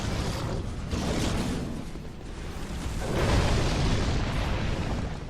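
A Combustion pyromancy spell in Dark Souls 2 bursts into loud, roaring fire blasts, two broad whooshing eruptions that swell and fade over a few seconds with no talk.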